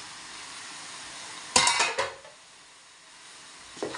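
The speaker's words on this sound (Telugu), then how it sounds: "ఇప్పుడు చికెన్ ముక్కలు వేయడం జరుగుతుంది." Pieces of country chicken drop into a hot pan and sizzle for a moment in a short burst, followed by quieter crackling and a final clink, heard close up with no talking, in a rural tribal cooking setting.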